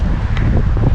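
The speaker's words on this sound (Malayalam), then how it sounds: "നല്ല കാറ്റ് കേട്ടോ, ഒരു രക്ഷയില്ല." Strong wind blows outdoors beside a highway near Kanyakumari, a loud, close, rumbling buffeting against the microphone with no talking.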